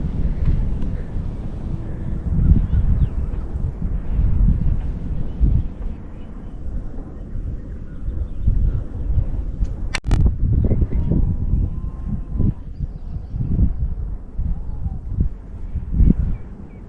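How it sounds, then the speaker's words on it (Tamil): Wind sweeps across an open hilltop overlooking a village and city, buffeting the microphone with a loud, steady low rumble that surges in gusts throughout. "காற்று செம்மையாக வருது."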